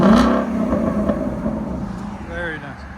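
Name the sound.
Ford Mustang GT 5.0 V8 revving, Ford Performance exhaust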